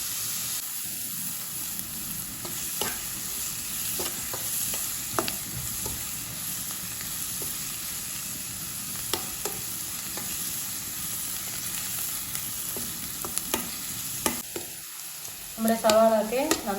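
Sliced onions for wheat ada dosa are stirred and fried in a pan: a steady soft sizzle with periodic scraping strokes of a spoon, close by, with a brief louder clatter near the end and no speech.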